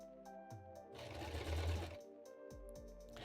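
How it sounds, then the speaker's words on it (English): A basic home sewing machine stitching cloth for a cosplay costume, a close, steady mechanical whir that speeds up in the middle and then stops and restarts in short runs. "I will say I have a pretty basic sewing machine."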